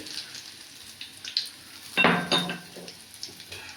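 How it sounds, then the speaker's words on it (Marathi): Mushrooms and peas frying in a pan with ginger and garlic added, stirred with a utensil: a low sizzle with light clinks, then a louder burst of spitting sizzle and scraping midway that settles back to steady frying. "तर तेही टाकूया आणि त्याला थोडंसं आता मिक्स करून घेते. उडतंय ते."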